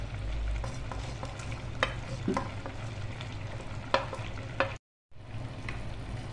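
Fried okra gets stirred into a yogurt masala, with soft scraping and stirring over a low, steady sizzle. A few sharper clinks of the spoon come through, then a short silent gap before the stirring picks up again.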